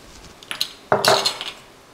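A utensil scrapes and clatters against a pan while onions and capsicum are stir-fried for a peanut rabbit Hokkien noodle dish, a few sharp clinks followed by a denser burst of scraping, close and alone.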